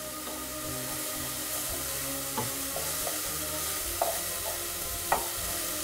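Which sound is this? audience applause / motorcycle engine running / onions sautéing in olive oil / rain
onions sautéing in olive oil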